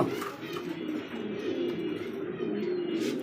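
Fancy Rajgolla pigeons coo continuously in soft, low, rolling calls that overlap without pause, close and moderately loud, with no talking.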